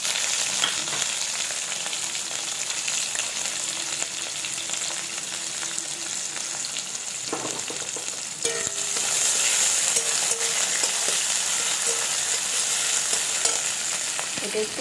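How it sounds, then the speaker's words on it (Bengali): Onion and garlic fry in a kadai over a tempering of nigella seeds, giving a loud, continuous close-up sizzle that swells louder partway through. "কালো জিরে ফোড়ন দিয়ে আমি এই পেঁয়াজ আর রসুনটাকে দিয়ে দেবো"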